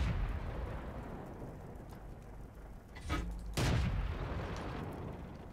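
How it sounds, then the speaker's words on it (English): Artillery and tank gun fire in World of Tanks, heard as a couple of dull booming blasts about three seconds in over a rumbling battlefield background, moderately quiet. "I think the artillery fired at me, and that's not good."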